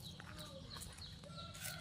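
Chickens on a farm with vegetable plots, several birds clucking and calling in faint, overlapping bursts over low background noise, moderately distant.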